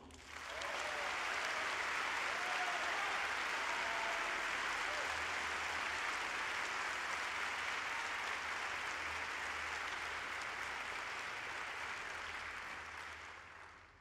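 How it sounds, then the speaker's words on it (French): Sustained, dense audience applause fills the hall at a live political event, loud and even for most of the stretch before tapering off near the end, with faint voices underneath. "j'aimerais que vous applaudissiez très fort l'équipe de Livre Noir"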